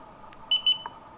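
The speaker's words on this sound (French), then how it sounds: "2 bips, tout va bien. La caméra a démarré." Two quick high-pitched electronic beeps from a Yi action camera powering up, close and clear against faint background hiss, with a small click just before them.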